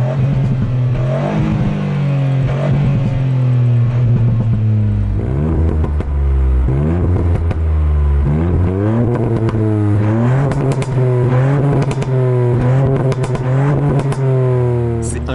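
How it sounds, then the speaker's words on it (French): A 2018 Ford Fiesta ST three-cylinder engine revs repeatedly in sport mode, rising and falling pitch with crackling exhaust pops between pulls, loud and close, with someone talking over it at times. "Oh, entendez comment ça pétarade?"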